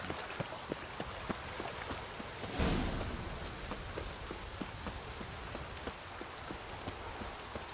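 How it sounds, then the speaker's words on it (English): Steady rain pours throughout a scene in The Witcher III: Wild Hunt, with droplets pattering on surfaces, a brief louder burst partway through and faint rhythmic hoof-like clops beneath, no speech. "witches have conjured rain again"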